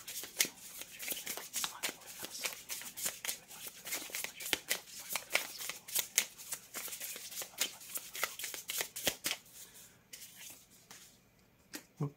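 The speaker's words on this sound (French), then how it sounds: "je sors toutes les cartes" Tarot cards are shuffled close by, a continuous soft riffling flutter with rapid crisp card slaps, fairly quiet and with no voices.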